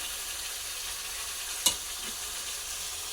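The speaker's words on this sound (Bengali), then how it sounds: "মশলা থেকে তেল ছেড়ে গেছে, এখানে দিয়ে দেবো সিদ্ধ করা আলু" Boiled potatoes fry in spiced oil with a steady, close sizzle, broken by a single sharp clink of a utensil against the pan partway through.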